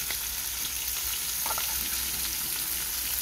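Chicken pieces sizzle steadily in a pan with garlic and oregano for arroz con gallina criolla, a constant close frying hiss with a faint scrape of a spoon partway through.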